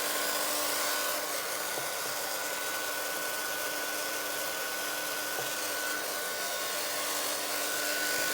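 A handheld heat drying tool blows steadily on an altered vintage book cover, a constant loud rushing whir with a faint tonal hum, close and unbroken throughout with no talking.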